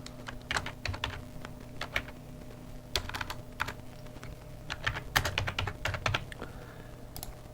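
Keys clacking on a computer keyboard as a web link is entered during data entry, in irregular bursts of quick taps with short pauses, close and fairly quiet, with no talking.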